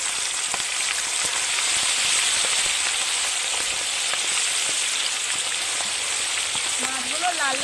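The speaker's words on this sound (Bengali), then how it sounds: "মাছগুলো লাল লাল করে ভেজে নেব" Whole sarpunti fish fry in plenty of hot oil, a dense, continuous crackling sizzle with scattered sharp pops throughout, close and loud, with no talking.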